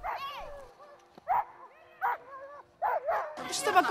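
Sled dogs at a dog sled race in Russia give several short, yelping barks and whining yips in separate bursts, fairly close, with a noisier flurry at the end.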